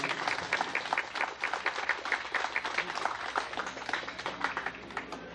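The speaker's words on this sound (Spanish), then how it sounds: "Un fuerte aplauso." Audience applause greets a clarinetist at a band performance in San Cristóbal, a sustained burst of many hands clapping with a steady, lively rhythm throughout.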